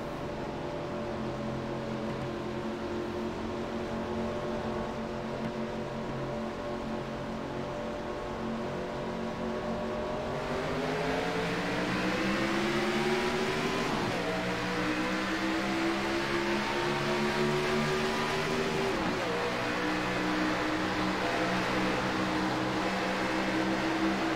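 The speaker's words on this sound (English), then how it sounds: "I can hear Richie playing with throttle there on that start" Stock race car engine in a Cup racing video game at Charlotte, droning steadily, then the throttle is blipped and revved on the restart with rising pitch sweeps, close and continuous.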